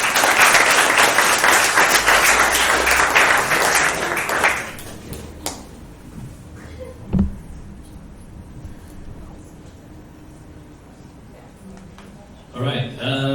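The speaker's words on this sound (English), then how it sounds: "Can you give a round of applause?" Loud audience applause at a Fuckup Nights storytelling event in Singapore, dense clapping for about four seconds that fades into room murmur, a few isolated taps, then a voice starts speaking near the end.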